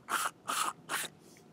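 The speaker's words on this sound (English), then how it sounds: "give the underside a few quick squirts" Aerosol cleaner sprayed onto a lawn mower carburetor on a Bolens mower in three short, quick hissing squirts, followed by a fainter fourth puff, close and clear with no talking.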